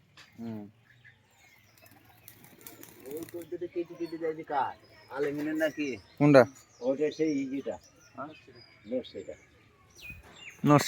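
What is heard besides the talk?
pigeons flapping and calling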